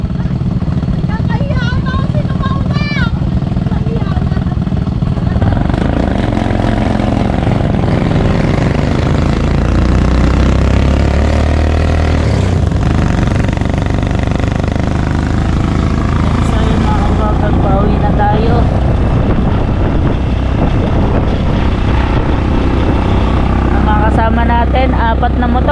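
Four motorcycles riding together in a row, their engines droning loudly and steadily throughout with people talking over the noise.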